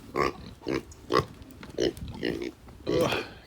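Kune Kune pigs grunt nearby in a series of short, rough, low snorts and grunts coming at an uneven rhythm, close and fairly loud.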